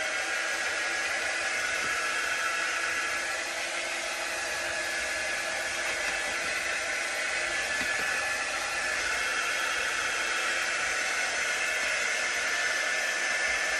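A hair dryer blows steadily on a painted wooden craft tree, a loud, continuous airy roar held at an even level from start to finish with no voices.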